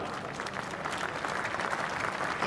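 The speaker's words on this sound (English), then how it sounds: "Some nice round of applause by this Canterbury crowd." A cricket crowd at Canterbury applauds during a Pakistan vs New Zealand Test match, a steady, moderately distant wash of clapping that continues throughout without pause.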